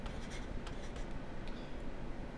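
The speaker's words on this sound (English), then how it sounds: "hope you can hear my pencil" Pencil scratching steadily across paper, close and fairly quiet, a continuous dry rasp with small strokes running throughout and no talking.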